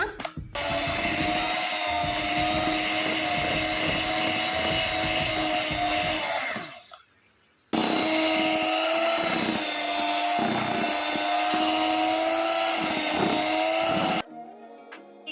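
An electric beater whirs loudly and steadily as it whips chocolate cake sponge batter in a bowl. It stops briefly midway, starts again at full speed, then cuts off near the end.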